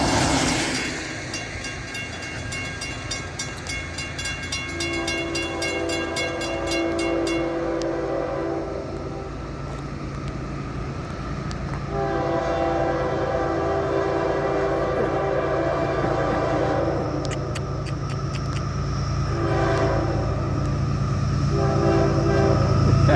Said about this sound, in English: Tonight's FEC train 107